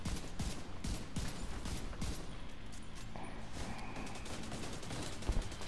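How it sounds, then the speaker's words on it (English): Bursts of gunfire in Tom Clancy's The Division 2 pop repeatedly amid a busy, noisy combat soundscape, with sharp short shots clustered early and scattered later over a steady background rumble. "Gotta do burst fire, smooth"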